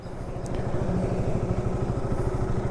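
A KTM RC200 motorcycle engine idles or runs nearby with a rapid, steady low throb and a faint clatter, loud and continuous throughout the short stretch.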